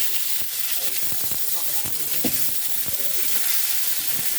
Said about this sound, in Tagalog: Igisa ko muna